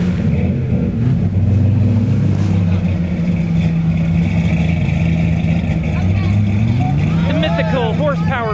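A stuck Jeep's engine roars and its tires spin in mud, a loud sustained rumble with rising revs, while people talk and shout excitedly over it.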